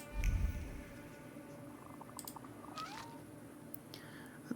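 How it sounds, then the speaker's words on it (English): Cat meowing in The Thaumaturge video game, a faint cry heard briefly over quiet ambient noise and soft clicks. "And I hear meowing."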